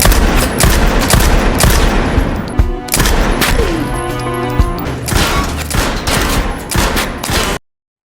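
Film scene of shooting practice at targets, with loud repeated gunshots in quick rapid-fire runs and echoing reports, punctuated by a few heavier blasts and pauses between volleys.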